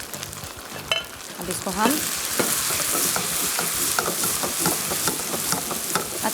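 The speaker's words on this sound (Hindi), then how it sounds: "चावल ऐड करूँगी और इसको ज़बरदस्त हम स्टिर फ्राई करेंगे।" Rice for chicken vegetable fried rice is stir-fried in a pan, giving a loud, close sizzle with rhythmic spatula scrapes and clinks. Someone speaks briefly at the start.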